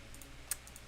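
A few quick taps on a computer keyboard, close and soft, with sharper clicks near the middle and end of a brief stretch.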